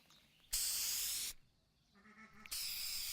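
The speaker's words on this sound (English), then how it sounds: "Do I want to know why you're spray painting a pentagram onto a sheet?" A spray paint can sprays onto a sheet in two long, steady hissing bursts separated by a short pause with a faint tonal sound, close and fairly loud, with no talking.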